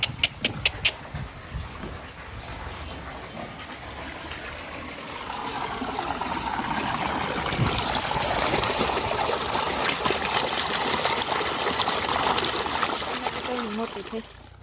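Cold water gushes from a farm motor pump into a field channel, a steady splashing flow that grows fuller after the first few seconds, with someone talking over it.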